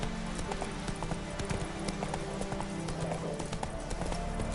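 Horse hooves clip-clop steadily at a brisk, close pace in a video game, a continuous rhythm of hoofbeats with no other sound standing out.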